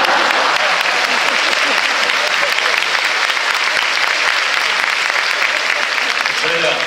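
A concert hall audience gives sustained, dense applause for a Japan Ground Self-Defense Force band at its regular concert. The clapping is loud and even throughout, with no other sound standing out.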